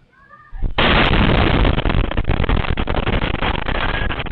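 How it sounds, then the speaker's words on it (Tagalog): A deafening explosion tears through a neighborhood of Zamboanga City, a sudden massive blast followed by a sustained roaring, rumbling wash of noise that stays loud for several seconds. "Sa lakas ng nakabibinging pagsabog, napatakbo ang mga residente ng barangay Kabatangan, pati mga hayop, nagulat."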